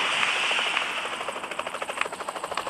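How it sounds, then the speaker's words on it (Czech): Helicopter in the video game PUBG Mobile, a steady rotor thrum with rapid rhythmic pulsing that grows more distinct toward the end, heard alone without speech. "Je to vrtulník."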